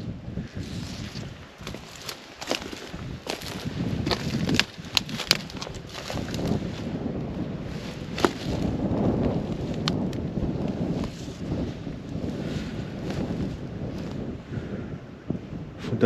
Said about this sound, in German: Von da kommt der Wind.